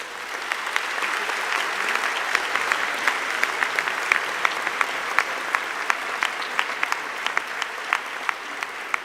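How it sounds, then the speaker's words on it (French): Applause from a congregation at a Sunday send-off Mass, a steady dense patter of many hands clapping throughout at moderate distance, with no voices over it. "On peut les applaudir, je crois."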